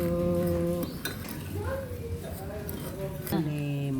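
A spoon or utensil clinks against a bowl while the palitaw mixture is stirred, light scattered metallic taps beneath a person talking.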